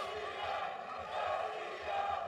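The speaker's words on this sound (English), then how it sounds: "around us here at Cageside, people are breaking into applause" Crowd cageside at an MMA fight breaking into applause and cheers, a continuous roar of clapping and shouting heard under commentary.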